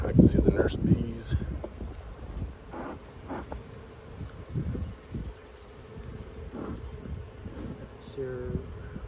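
Honeybees hum in an open hive with nurse bees on the frames, a low steady buzz with a few close passes while people talk over it.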